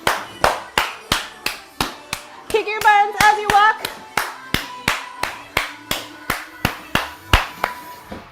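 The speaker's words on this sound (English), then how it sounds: "Clap it." Dance fitness class participants clap in steady rhythm, about two sharp claps per second throughout, with a brief spoken cue from the instructor in the middle.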